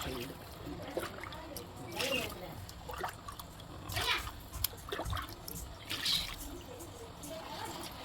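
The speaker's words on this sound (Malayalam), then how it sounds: "ഈ ഗ്ലാസ്സിൽ നമ്മൾ ഇതിനകത്തിലേക്ക് 16 ഗ്ലാസ് വെള്ളം നമ്മൾ ഇതിനകത്തിലേക്ക് ഒഴിക്കുകയാണ്." Glassfuls of water are poured one after another into soaked rice for chicken biryani, making soft, recurring splashes and trickles beneath a person talking.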